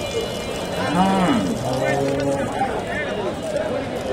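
A large Jersey-Sahiwal cross cow at a busy cattle market, with lowing calls rising over a constant crowd murmur and nearby voices talking throughout.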